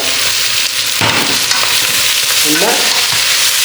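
Spices sizzle in hot oil in a pan for a dried-fish biryani with whole dried chillies and chopped chillies, stirred with scraping strokes over a steady loud fry, no talking.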